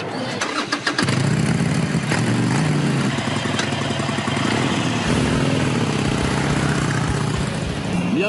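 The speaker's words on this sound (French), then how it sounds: "écoutez ce son. Celui de la nouvelle Harley Roadster." A new Harley-Davidson Roadster motorcycle in Milwaukee, Wisconsin, fires up after a brief moment and settles into a loud, steady, throbbing idle close by.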